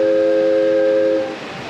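A sustained multi-tone amusement park train whistle blows steadily at Pleasure Beach Resort Blackpool, then cuts off, leaving a low background hum.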